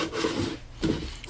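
Wood being hand-sanded for finishing, heard as two short rasping strokes of abrasive against the surface, close and fairly loud, with no talking.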